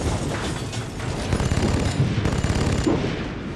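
Rapid bursts of gunfire from a war film scene rattle continuously for several seconds, loud, dense machine-gun volleys with sharp individual cracks.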